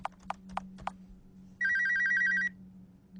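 A telephone rings inside an abandoned house: a clear electronic ringing burst of about a second, preceded by several short sharp knocks, over a steady low hum.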